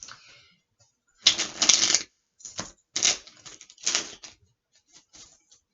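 Mini tarot cards being shuffled in several quick bursts of riffling and flicking, close and fairly loud, separated by short pauses with no talking.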